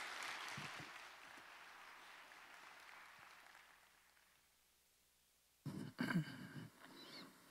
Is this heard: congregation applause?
yes